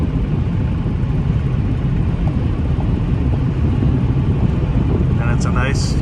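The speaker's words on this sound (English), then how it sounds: "wind noise isn't real bad on this truck" Steady low road and wind roar inside a 2012 Chevrolet truck cruising at speed, a constant dense rumble filling the cab with a brief higher whine near the end.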